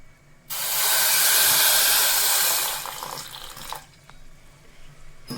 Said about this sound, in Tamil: ஒரு அரை ஒரு அரை கிளாஸ் தண்ணி ஊற்றிக்கலாம்